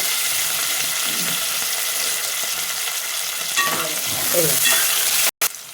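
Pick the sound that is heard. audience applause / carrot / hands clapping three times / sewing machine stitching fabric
carrot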